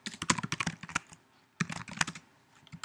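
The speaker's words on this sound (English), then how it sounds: "let's just go ahead and type our public void on enable" Code being typed on a computer keyboard, two quick bursts of close, crisp key clicks separated by a short pause, with no voices.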